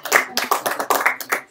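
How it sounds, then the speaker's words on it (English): A small live-stream audience claps hands in a brief burst, with about ten distinct, close, sharp claps in an uneven rhythm. "So big round of applause"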